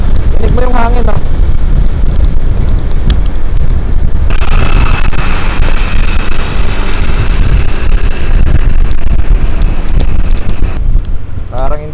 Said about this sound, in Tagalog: Tinig mo yung hangin, oh.